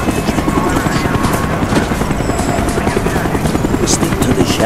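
Helicopter in the video game Call of Duty: Black Ops, a loud, steady rotor chop with rapid low thumping throughout, mixed with battle noise and faint background voices.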